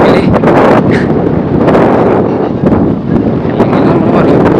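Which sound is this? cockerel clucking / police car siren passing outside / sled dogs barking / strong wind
strong wind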